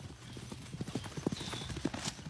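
A horse's hooves clip-clopping at close range, a loose uneven series of knocks over a quiet background, with faint voices and a brief whinny-like tone mixed in.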